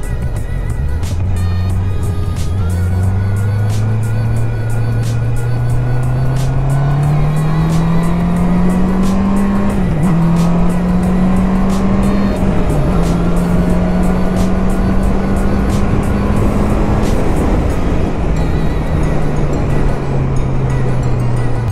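A motorcycle engine runs at high revs while riding, a loud, sustained close-up roar whose pitch climbs steadily through the gears, dips briefly on shifts, then eases off near the end.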